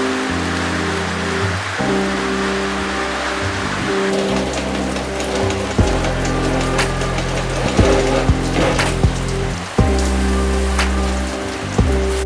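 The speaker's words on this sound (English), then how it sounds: "It's raining" Rain falling steadily during a wet weekend outdoors, a continuous hiss of drops with scattered sharper taps on nearby surfaces, over a low hum.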